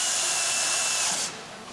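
A power tool runs loud and steady, driving the smaller bolts on the water pump upgrade kit of a 1995 GMC 6.5 L diesel, then drops to a quieter whir near the end.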